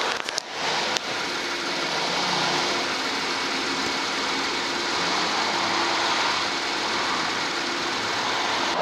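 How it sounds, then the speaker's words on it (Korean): A Kia K9 3.3-litre V6 engine idles in a smooth, steady hum heard up close with the hood open, after a few brief clicks at the start. "엔진 소리 한번 들어볼게요"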